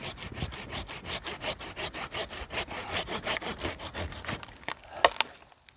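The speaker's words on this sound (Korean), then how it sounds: "이제 줄기를 자르는 거죠." Hand saw cutting through a trunk-like stem during bonsai styling, with steady rapid back-and-forth strokes close by, then a few sharp cracks as the cut finishes and the stroking fades out.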